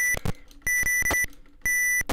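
Bright synthetic beeps play a quick, catchy tune of short and sustained notes, like a simple electronic ringtone, loud and close with no voices.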